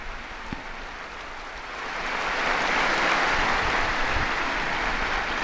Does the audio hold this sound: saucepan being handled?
no